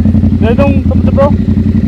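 A motorcycle fitted with a replaced aftermarket exhaust pipe runs with a steady, loud, throbbing engine note close by, while people talk over it.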